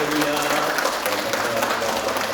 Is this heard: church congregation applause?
yes